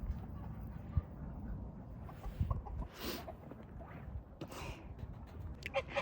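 Chickens in a backyard coop give soft, scattered clucks and brief squawks, faint and fairly close, with quiet rustling between calls.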